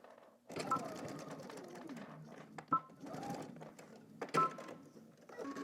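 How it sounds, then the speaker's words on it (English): A home sewing machine stitches down the side seams of a Simplicity S9758 garment in short runs with pauses, a steady close whir broken by a few sharp clicks. "let's head over to the machine and stitch down our sides"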